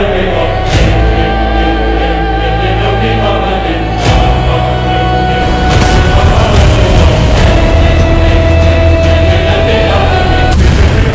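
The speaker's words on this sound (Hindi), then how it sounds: "धुएं के बीच नियंत्रित जवाबी फायर करते हैं, सिर्फ रास्ता साफ करने के लिए।" Soldiers fire controlled return shots through smoke during the 2015 Yemen war, with loud booming reports punctuating a thick, roaring battle soundscape, several sharp blasts standing out over sustained low rumble and tonal droning.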